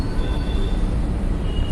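A Mumbai metro train rumbles past on its line in a steady, loud roar of wheels and rails, with no pauses and no voices over it.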